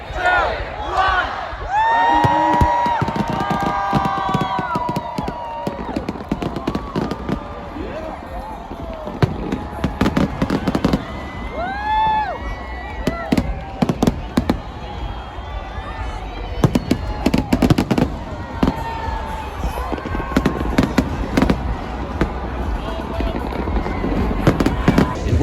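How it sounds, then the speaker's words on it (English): New Year's Eve midnight fireworks over Melbourne, Australia, with rapid repeated bangs, crackles and whistling rockets, some close and some distant, over a cheering crowd and people talking throughout. "there wasn't any fireworks during the whole day until midnight"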